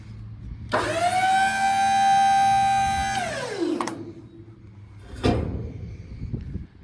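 Hydraulic pump whining loudly for a few seconds as a dump trailer bed is raised, the tone steady then dropping away as it stops, followed by a sharp metallic clunk.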